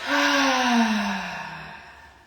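A single long exhale through the mouth during a slow breathing exercise, close and steady, fading gradually over about two seconds with no talking.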